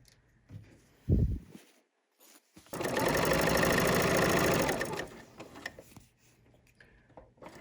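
A sewing machine stitches a tote bag in one steady, fast run of about two seconds. A short mechanical clunk comes before it, and small handling sounds follow the burst.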